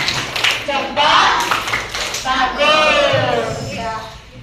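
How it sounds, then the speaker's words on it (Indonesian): Schoolchildren in a primary-school classroom clapping out a thumb-clap chant, rhythmic hand claps mixed with their sung and spoken voices, close and lively, with a teacher's voice leading. "Kita tepuk apa yang belum? Tepuk jempol."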